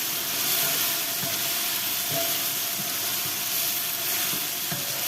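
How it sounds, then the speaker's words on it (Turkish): Close to a kilo of peppers roasting with added liquid in a pot, a steady, fairly loud sizzle and hiss with occasional soft stirring knocks, continuous and with no talk. "Biberlerimi kavuruyorum şimdi"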